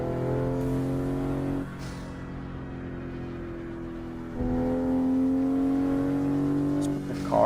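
Toyota Supra MK5 engine in a driving video game, a steady droning hum that settles lower midway and then climbs again in a sustained rev near the end, with no talking over it.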